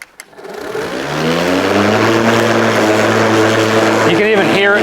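A Ryobi 36V brushless lawn mower set just above its lowest cutting height starts up and settles into a steady, loud droning hum with a grinding edge, running close by.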